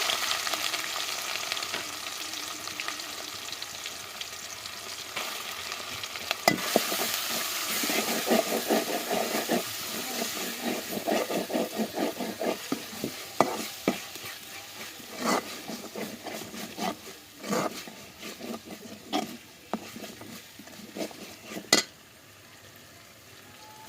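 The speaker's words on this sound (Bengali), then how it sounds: "আমি প্রথমে রসুন কুচিগুলো দিয়ে দিচ্ছি আদা কুচি পেঁয়াজ কুচি" Chopped garlic, ginger and onion sizzle steadily in a hot pan, with scraping and clattering stirring strokes growing busier through the middle and a few sharp utensil knocks, no talking.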